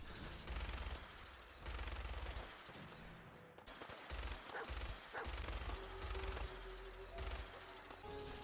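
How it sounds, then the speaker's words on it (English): Minigun fire from a power armor suit in the video game Fallout 4 comes as repeated rapid bursts of dense gunfire, loud and close, broken by short pauses between volleys. "Walter grabbed the power armor and the minigun on the roof in order to help clear out the outside"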